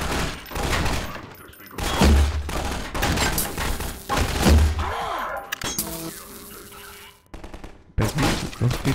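Rapid gunfire from weapons in the shooter game Half-Life 2: Episode Two, with repeated bursts and single shots, thuds and impacts, interleaved with players' voices talking.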